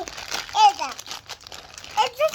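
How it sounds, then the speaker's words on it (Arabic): A Chipsy chips bag crinkles as it is pulled open, with brief crackling rustles mixed under the chatter of children talking close by. "افتحي من الكيس من هنا بالراحة."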